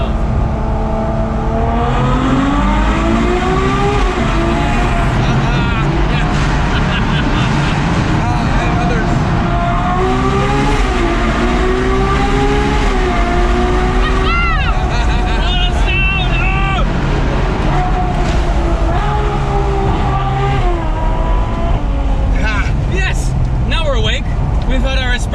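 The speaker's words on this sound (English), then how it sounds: "start Gumball in a tunnel with a naturally aspirated V12" A Ferrari 812 Superfast's naturally aspirated V12 roars inside a tunnel at the start of the Gumball 3000 rally. It is loud and reverberant, with repeated rising revs and gear changes over a constant rushing drone.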